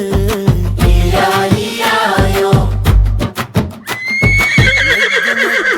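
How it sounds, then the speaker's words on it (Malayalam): A horse on a farm whinnies in a loud, shaky neigh that rises and falls, with a few more bright calls over an underlying musical backing. "കരയുന്ന കുതിരയാണ്"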